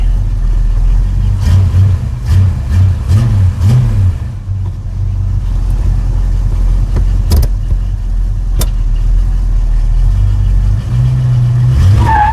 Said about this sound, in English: Let's put this thing under a little bit of a load, brake torquing it, and see if we can get it to leak any